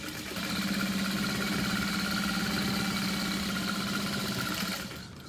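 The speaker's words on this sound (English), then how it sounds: "So you will be sewing through the stabilizer and through that side seam." A sewing machine stitches through fusible stabilizer and a side seam on a structured tote bag, running as a steady, even motor hum for several seconds before easing off at the end.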